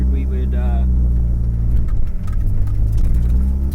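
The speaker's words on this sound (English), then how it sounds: "decently over the whine of the fuel pump and the exhaust" Inside a car fitted with Techno Toy coilovers, a steady fuel pump whine rides over a low, continuous exhaust drone, with a person speaking near the start.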